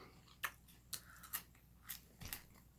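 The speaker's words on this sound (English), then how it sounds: "Oh, look at those shoestring fries. They're crispy and crunchy." Crispy, crunchy shoestring fries from Steak 'n Shake are bitten and chewed close to the mic, giving about five faint, separate crunches in quick succession.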